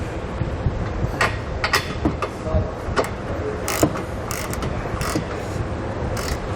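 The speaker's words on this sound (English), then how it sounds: "Then we'll take a 3/4 inch socket. We're going to tighten down our flange nuts first that are going through the frame rails." A ratchet with a 3/4 inch socket tightens flange nuts through the frame rails of a 2019 Mitsubishi Outlander during a Curt trailer hitch install, giving irregular close clicks and metallic creaks over a steady low background rumble.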